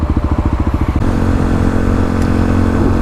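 A new, barely dirty Kawasaki KLR motorcycle rolls past nearby, its engine pulsing in quick beats at first and then settling into a steady drone.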